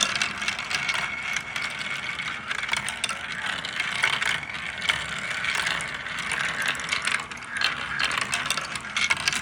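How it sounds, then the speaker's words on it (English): A small motor drives 3D printed plastic gears plugged into a computer, producing a continuous close whirring and clicking ratchet-like chatter with a steady, slightly uneven rhythm, no speech. "Has its own little motor."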